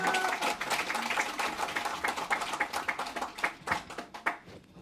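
Audience applause welcoming a senior adviser at a People Power Party event, a dense patter of many hands clapping that thins into more distinct, separate claps toward the end.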